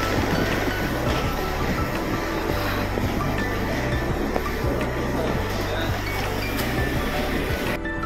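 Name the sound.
Shatabdi Express train at Puri railway station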